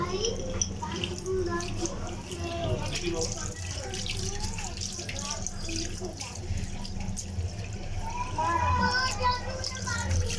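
Tap water runs at an outdoor hand-washing spot near a dining area, splashing steadily while people and children talk and play nearby.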